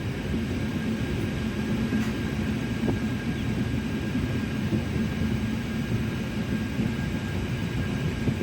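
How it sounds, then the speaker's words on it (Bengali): Heard from inside a train moving slowly near Malda, a steady low rumble and rattle of the carriage carries on throughout, with a faint high whine and occasional small knocks. "ট্রেনটা একদম আস্তে আস্তে যাচ্ছে।"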